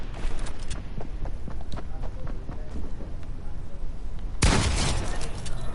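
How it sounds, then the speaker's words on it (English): Rapid bursts of gunfire crackle through a Fortnite match, with repeated sharp shots and footsteps in the mix, followed by a louder blast near the end while a player talks over it. "go across, hear some shooting"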